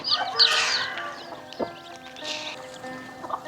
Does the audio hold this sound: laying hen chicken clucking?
yes